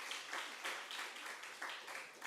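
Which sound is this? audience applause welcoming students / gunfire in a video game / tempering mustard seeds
audience applause welcoming students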